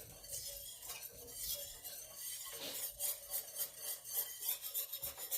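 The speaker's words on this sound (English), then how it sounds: "And you want to keep whisking. Just keep whisking." A whisk scrapes steadily against a pot of homemade gravy, working out lumps with quiet, rhythmic rasping strokes and occasional light clinks of metal on the pan.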